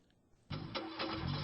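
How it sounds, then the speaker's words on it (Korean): A car engine cranks after a short near-silence, with a rough, rising churn that repeats without catching and stays close and moderately loud. "왜 시동이 안 걸리지?"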